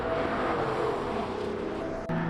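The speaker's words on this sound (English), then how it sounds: "Whining Camaros." Camaro race cars on a raceway, engines whining in a sustained high-pitched drone that holds steady, then cuts off briefly near the end.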